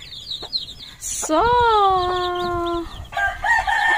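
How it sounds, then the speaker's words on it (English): Rooster crows loudly in one long drawn-out call inside a chicken house, with a second crow starting near the end, over soft background clucking; a person speaks a word at the start. "I am here now in the house of chickens, so I want to show all of you my little chicks."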